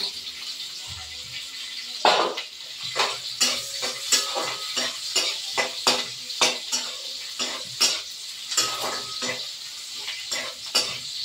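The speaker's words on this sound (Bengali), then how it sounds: "তেজপাতা, শুকনো লঙ্কা, কাঁচা লঙ্কা আর গোটা গরম মশলা ফোড়ন দিয়ে দিলাম।" Bay leaves, dried red chilies, green chilies and whole garam masala sizzling in hot ghee in a pan. A constant close crackle runs under repeated stirring scrapes and utensil clinks that come in a loose, steady rhythm.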